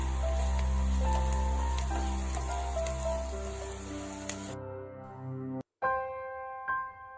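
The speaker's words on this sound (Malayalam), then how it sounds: "ഇതിലേക്ക് ഒരു 1/2 സ്പൂൺ മഞ്ഞൾപ്പൊടി ചേർത്തു നന്നായി ഒന്ന് വഴറ്റിയെടുക്കാം" Vegetables sizzle steadily in a hot pan with half a spoon of turmeric powder stirred in, a close, hissing frying sound under soft background music that cuts out near the end.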